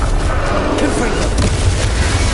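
In Hogwarts Legacy, a Confringo spell bursts in a loud explosive boom with heavy, sustained rumble and scattered sharp cracks amid a fierce fight against Ranrock.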